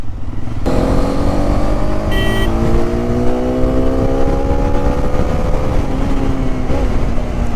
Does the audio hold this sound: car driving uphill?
yes